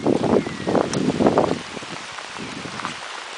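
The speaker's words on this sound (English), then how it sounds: "God, the rain's really coming down." Heavy rain coming down on an allotment that resembles a small holding, a broad steady hiss of drops that swells loudly in the first half, then settles to a softer, even patter.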